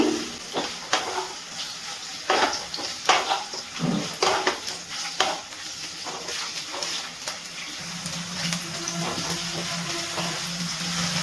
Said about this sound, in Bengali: গ্যাসের ফ্লেমটা মিডিয়ামে রেখে ফুলকপিগুলো ভেজে নিচ্ছি